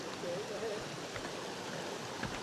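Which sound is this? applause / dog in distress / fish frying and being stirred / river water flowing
river water flowing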